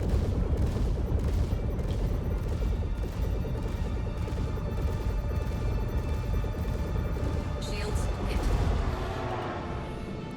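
Missile launches and combat fire in the space game Star Citizen, a dense, continuous barrage of rapid bursts and impacts over a low rumble, loud and sustained, easing slightly at the end.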